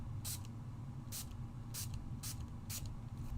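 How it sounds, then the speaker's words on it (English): Five short bursts from a Distress water spray bottle, spaced about half a second apart, each a quick sharp hiss over a low background hum. "I'm going to take the Distress sprayer,"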